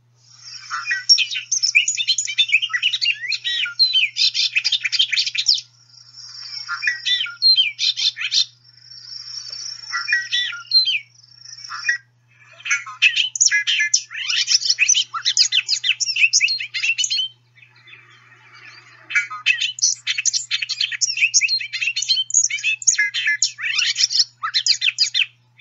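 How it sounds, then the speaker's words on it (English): Bobolink singing its long, complex bubbling song of rapid tinkling, metallic notes, delivered in several extended bursts with brief pauses between, clear and close against a quiet background. "There's not a lot out there that sounds like a bobolink."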